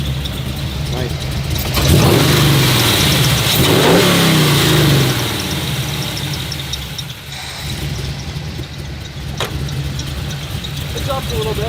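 A 1973 Chevy Camaro Z28 V8 rumbles loud and close, revving up in a couple of swells early on before settling back, with people talking and background crowd noise around it.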